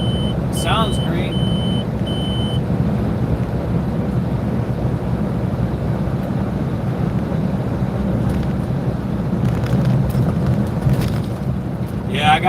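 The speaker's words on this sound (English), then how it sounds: "when you get the green light, it just beeps and lets you know it's green, gives you a couple friendly beeps" A weigh station in a trucking video game gives a couple of short electronic beeps near the start, heard over the constant low rumble of the truck's engine and road noise.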